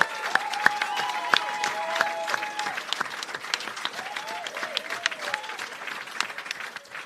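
A round of applause at a women's cricket team homecoming press conference: steady, dense clapping from a crowd of people, moderately loud and continuous for several seconds with no talk over it.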